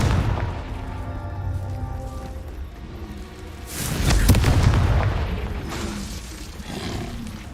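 A Confringo spell blast in Hogwarts Legacy bursts with a loud, rumbling boom about midway, its roar swelling and fading over a couple of seconds amid softer game sounds.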